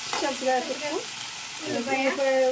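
Green chilli paste fries in oil in a village kitchen, a loud steady sizzle with scraping stirs and some tonal clatter from the pan, and no talking.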